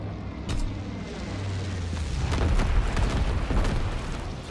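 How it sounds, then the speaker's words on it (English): Incendiary bombs exploding in a video game: a steady low rumble of booming blasts and bursts builds over a few seconds, with scattered sharp pops on top. "Incendiary bombs incoming."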